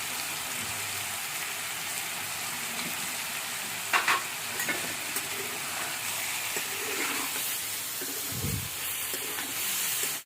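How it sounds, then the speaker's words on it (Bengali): Amdi fish fries in a pan with salt and turmeric, giving a steady close sizzle and crackle throughout, with occasional scrapes and taps from stirring. "এর সাথে দেখো মাছটা খুব ভালো করে ভাজা ভাজা টাইপ হয়ে গেছে"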